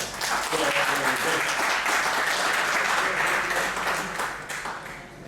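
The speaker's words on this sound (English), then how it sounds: "I'd like to make a welcome through a applause." An audience at a garment industry event gives a welcoming round of applause, full and steady for several seconds before tapering off near the end.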